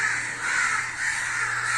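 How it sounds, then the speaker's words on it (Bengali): Several crows gathered beside a house in the morning caw harshly and repeatedly, loud and close, their calls overlapping in a continuous chorus with no voices. "সকাল সকাল কাকের সমাবেশ হচ্ছে আমাদের বাড়ির পাশে"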